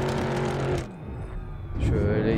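A BMW E36 race car engine in Assetto Corsa revs loudly while drifting on a snowy road, drops briefly, then roars back up, with a synthetic, game-like tone throughout.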